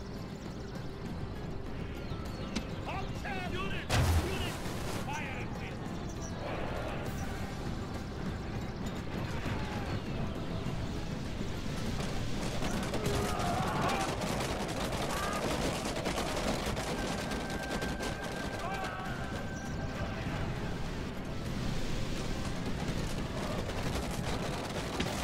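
Troops firing in the ancient-battle strategy game Alexander Remastered, a steady dense crackle of distant volleys across the whole stretch with one sharper burst near the start, no voices over it.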